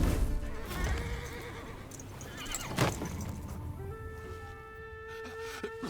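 A horse in the video game Where Winds Meet neighs with a rising whinny close up, alongside clip-clop hooves and other game sounds, ending with sustained tonal notes.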